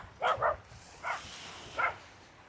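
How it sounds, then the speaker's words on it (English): Wild dogs bark from a short distance outdoors, a quick pair of barks followed by two single barks spaced apart, with no talking. "Barking at some wild dogs here."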